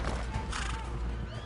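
A horse whinnies amid a dense scene of hooves and rumbling commotion, the neigh rising briefly over a loud, busy background with faint shouted voices.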